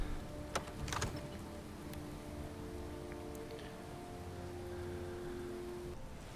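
Steady rain falling in the Skyrim VR video game world, a soft, even hiss of drops that fills the whole stretch, with a faint low tone running underneath and a couple of brief clicks near the start.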